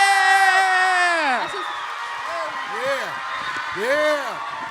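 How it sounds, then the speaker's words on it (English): Students at a leadership conference cheer for Brother Rashad with loud whoops and rising and falling yells close by, a raucous crowd outburst that swells again near the end. "Can we get a warm round of applause for Brother Rashad?"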